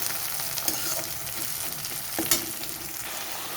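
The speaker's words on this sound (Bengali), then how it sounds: "দিয়ে দিলাম টমেটো করে একটু ভালো করে নেড়ে চেড়ে নেবো তারপর দিয়ে দেবো বেটে রাখা মশলা" Tomato and ground spice paste frying in a pan for a cauliflower, potato and fish curry, a steady sizzle with a couple of sharp stirring scrapes, close and alone without talk.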